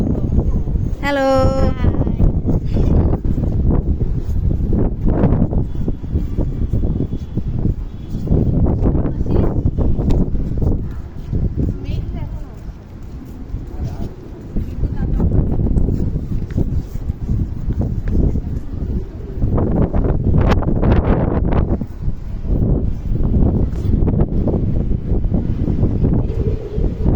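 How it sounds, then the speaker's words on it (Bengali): Strong wind ahead of an approaching rainstorm roars and buffets the microphone in heavy rumbling gusts, with a brief voice early on and a lull midway before the blowing surges again. "খুব বাতাসের শব্দ পাওয়া যাচ্ছে, খুব জোরে কোথাও থেকে ধেয়ে আসছে, মনে হচ্ছে ঝড়।"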